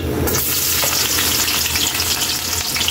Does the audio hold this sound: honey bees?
no